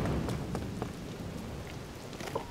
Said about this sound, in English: my Switch doesn't love the rain